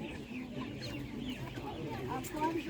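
Young broiler roosters clucking and murmuring at a busy Saturday animal market, with a steady background hum and some faint voices mixed in.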